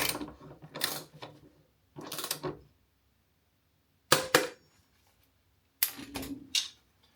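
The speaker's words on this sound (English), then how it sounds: "So I've got that set on my old torque wrench." An old torque wrench set to 33 newton meters ratchets while tightening bolts on a Victron Lynx 1000A busbar, giving four close, crisp bursts of rapid clicking separated by quiet pauses.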